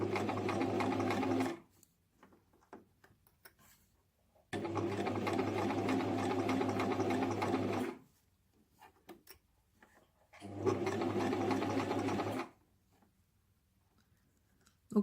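A sewing machine stitches over an earlier seam in three steady bursts of a few seconds each, separated by quiet pauses with faint handling clicks, heard close and alone.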